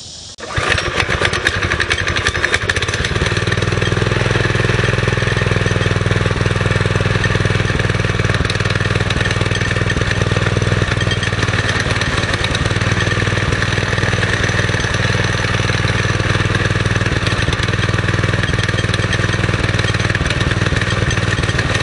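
A Springer motorcycle engine starts up and then idles steadily with a loud, close, even rumble that holds throughout.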